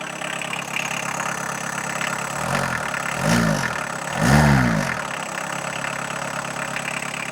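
A Volkswagen Golf Mk1 engine, run again after sitting for 12 years, idles roughly and then revs twice in quick bursts, each rev louder and rising before settling back to idle.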